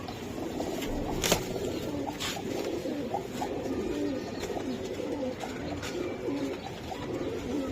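Giribaj Chila pigeons at a pigeon seller's loft cooing repeatedly in soft, low, rolling calls, several birds overlapping at close range, with occasional sharp clicks and faint background noise but no talk.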